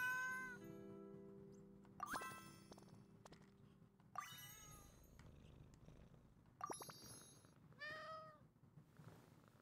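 A cartoon cat in Genshin Impact's feline event meows in short rising calls over a soft purr, with bright chime-like dings between the meows, each sound clean and isolated against a quiet background.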